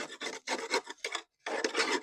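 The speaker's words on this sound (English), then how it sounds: "now it's time to scrape all this dead grass where the blade is" A scraper rasping caked dead grass off a lawn mower deck around the blade, with a series of close, gritty back-and-forth strokes, a brief silent pause, then more scraping.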